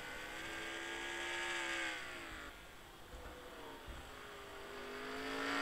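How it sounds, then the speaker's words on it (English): A Pontiac Bonneville stock car races on a track, its engine whining in long rising and falling sweeps as it passes, with other cars droning behind, steady and fairly loud. "It's a good look at Courtney Mays driving her Pontiac Bonneville, sponsored by Maglite from Motor Breath Racing."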